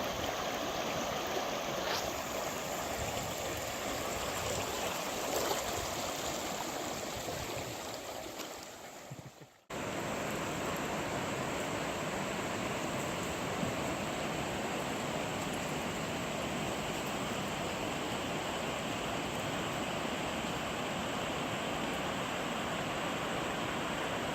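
A river flows steadily as a broad, even wash of rushing water, with a brief dip partway through before the constant flow resumes, heard alone with no talking.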